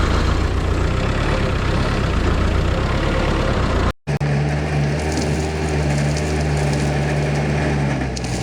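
A site dumper's engine runs loudly at a building site for an underground bunker, a heavy rough diesel chug that cuts out briefly and then resumes at a steadier idle with a low hum.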